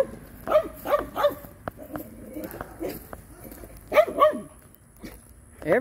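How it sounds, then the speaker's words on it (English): A dog barks on a morning walk: two quick barks near the start, then a tighter pair around four seconds and one more at the end, fairly close and loud over light outdoor background. "No barking."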